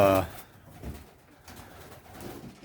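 Little white doves coo softly inside a wooden loft box, low murmuring calls following a short burst of louder noise at the start, otherwise faint and close.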